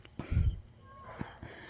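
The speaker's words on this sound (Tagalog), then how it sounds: "Marami na pong kuliglig na uh, nag-iingay." Crickets chirp at dusk on a dim, drizzly evening outdoors, a faint, steady high trill with repeated pulses, broken by a few soft low thumps nearby.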